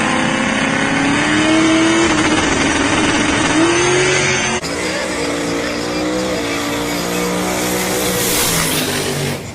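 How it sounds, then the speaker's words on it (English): No-prep drag race cars roaring through a final round, loud engines revving and climbing in pitch as they pass close, with a shift in tone partway through. "Final round, the big Canadian over there on the left, Mike. And Stars and Autos there on the right there"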